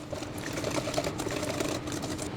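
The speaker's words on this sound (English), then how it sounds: "Whisk this up good." Eggs are whisked in a bowl for keto ice cream base, a fast, continuous, close rattling of wire against the bowl that keeps up an even rhythm without pause or talk.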